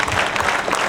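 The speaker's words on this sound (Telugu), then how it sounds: "మీరు చేస్తారంటే అందరూ చప్పట్లతో గట్టిగా ఇవ్వాలి." Audience clapping at a road-safety rally in Nizamabad, a brief burst of many hands applauding together, close and fairly loud.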